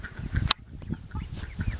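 Backyard geese at a chicken coop give a few short honking calls, close and moderately loud, with a sharp click or knock partway through and clucking farm fowl around them.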